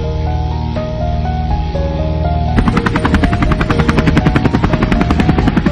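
A steady mechanical drone with harmonic hum, then a sharp shift into loud rapid rhythmic chopping of helicopter rotor blades in the mobile video game Bhai The Gangster, continuous and close, with no talking.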